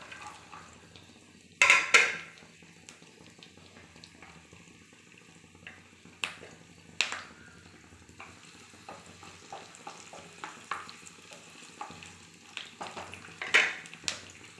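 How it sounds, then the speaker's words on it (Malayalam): Garlic and green chillies hitting hot oil in a pan for a Kerala bilimbi pickle, a low steady sizzle broken by a few sharp clinks and scrapes of a utensil against the pan. "എണ്ണ ഇപ്പോൾ ചൂടായി കഴിഞ്ഞു ഇനി ഇതിലേക്ക് നമ്മുടെ വെളുത്തുള്ളിയും പച്ചമുളകും കൂടി ചേർത്ത് കൊടുക്കാം"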